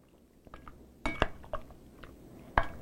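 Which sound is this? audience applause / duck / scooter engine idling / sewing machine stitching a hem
duck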